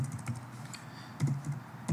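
Keys on a laptop computer keyboard being typed in short irregular clusters of soft clicks, close and fairly quiet over a faint background hum, with no talking.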